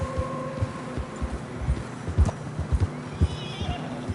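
Horses trot through fresh snow in Red Dead Redemption 2, a steady run of muffled hoof thuds at moderate distance, with a brief whinny and a faint low voice underneath.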